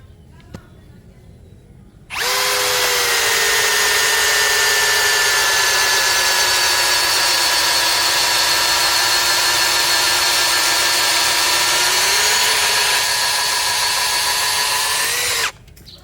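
Cordless power drill in drilling mode at speed 1 boring a 19 mm bit into meranti wood: a loud, steady whine starts after about two seconds, holds for roughly thirteen seconds with a slight dip near the end, then cuts off, with no talk.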